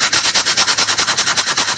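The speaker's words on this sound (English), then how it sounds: "we're here sanding a PCB" Rhythmic back-and-forth sanding of a Phase5 BPPC2 printed circuit board, a steady rasping scrape repeating about ten strokes a second, close and fairly loud with no voices.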